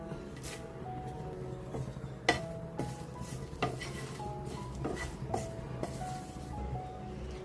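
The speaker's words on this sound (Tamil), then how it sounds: "இப்போ கருவேப்பிலை நல்லா சுருளை வறுத்தாச்சு" Curry leaves roast in a pan for idli podi, heard as a gentle sizzle under a spoon stirring and scraping against the metal, with a few sharper clinks scattered through the steady bed of sound.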